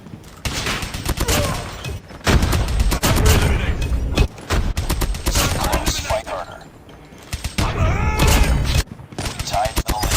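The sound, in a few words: HVK gunfire in video game COD Mobile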